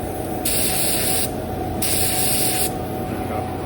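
Two long bursts of hissing spray from a paint gun applying candy paint to car parts, each under a second, separated by short pauses over a steady background hum. The spray pattern is uneven.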